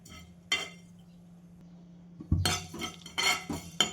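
Coriander, cumin and fennel seeds dry roast in a pan, heard as scattered metallic scrapes and clinks of a spoon against the pan, close and intermittent over a quiet low hum.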